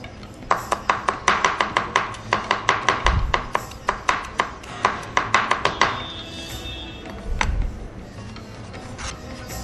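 A knife chops onions finely on a board for a potato bake, rapid even knocks in a close, loud rhythm for about six seconds, then a few scattered taps and a soft scrape.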